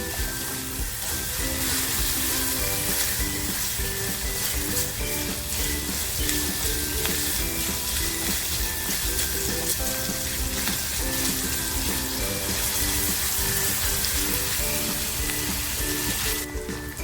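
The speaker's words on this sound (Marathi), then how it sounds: "कांदा कापून घेतला होता तो कांदा टाकते कांदा कांदासुद्धा छान परतवून घेते" Chopped onion sizzles and fries in a hot pan as it is sautéed for a karandi (dried shrimp) masala, a steady continuous crackle with faint clinks throughout, no talking.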